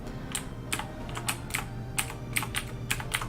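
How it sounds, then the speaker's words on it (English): Clicky computer keyboard typing during a Pokemon Insurgence game session, with about nine sharp keystrokes arriving in irregular bursts over a low steady hum, close and moderately loud. "about my clicking keyboard"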